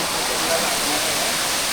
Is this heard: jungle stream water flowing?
yes